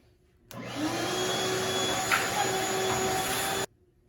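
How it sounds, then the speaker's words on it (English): A vacuum cleaner sucks up metal shavings from the floor of a Ford Transit van, a steady loud whine that starts abruptly, runs for about three seconds and cuts off cleanly, with no talking. "it's a good time to take a vacuum and get some of these metal shavings cleaned up"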